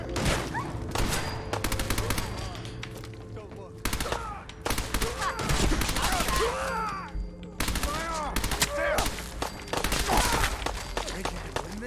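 Rapid bursts of gunfire in Fallout 4, volleys of shots rattling almost nonstop through the whole stretch, loud and close, with game characters shouting over the firefight.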